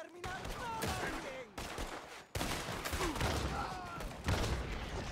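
Rapid volleys of shotgun blasts and other gunfire in Red Dead Redemption 2, loud and dense, with a sharp burst around the middle and more shots near the end, under and between excited talking.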